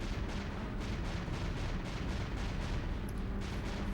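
Rapid gunfire in the video game A.T.O.M., a continuous dense rattle of shots with rhythmic bursts layered over a heavy rumbling low end, loud and unbroken.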